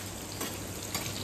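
Onions fry in hot oil, giving a continuous soft sizzle with faint crackles and a couple of slightly louder stir-like bursts, heard close and quiet.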